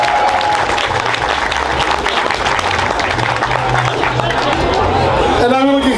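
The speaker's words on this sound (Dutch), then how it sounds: "Een applaus voor Dennis Jongensen!" A carnival crowd at a prince and court ladies ceremony breaks into loud, dense applause, the clapping continuous and close, mixed with crowd chatter and a shout near the end.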